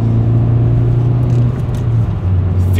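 A Hyundai Veloster N with an MBRP 3-inch dual rear exit cat-back exhaust accelerating through the gears, a loud, deep, droning engine note that dips briefly as it shifts.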